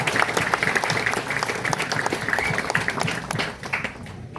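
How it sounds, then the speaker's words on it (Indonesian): A congregation at a Hindu temple gathering applauds the community leaders, continuous clapping that fades toward the end. "Boleh dong tepuk tangannya Bapak Ibu kepada para pemimpin kita."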